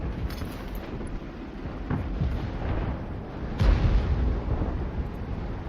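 Artillery fire in a tank video game, a deep, continuous rumbling roar with a heavier boom about halfway through as a shell lands, loud and close, with no talking.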